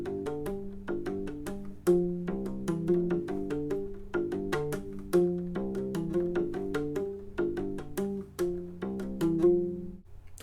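U-bass played with two-handed tapping, a repeating pattern of low, round, plucked notes cycling three times in a steady rhythm, close and clear with no voices.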